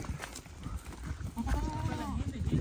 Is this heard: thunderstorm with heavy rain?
no